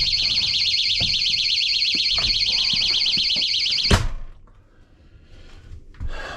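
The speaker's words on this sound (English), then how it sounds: "But I installed this little door alarm." A cheap battery door alarm inside a winter-stored RV emits a rapid warbling electronic beep, loud and continuous, then cuts off abruptly with a clunk, leaving a quiet interior with faint shuffling.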